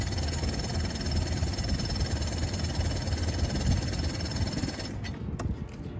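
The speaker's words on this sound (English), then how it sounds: "being a two-stroke engine, these things always take a little bit of work to get started for the first time" A two-stroke marine outboard motor on a sailboat is cranked, producing a loud, steady mechanical churning and rattling for several seconds before a few sharp clanks as it stops.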